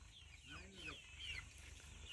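Hen with her chicks on a farm, soft clucking and high peeping chick calls rising over a steady low background hum, moderately near.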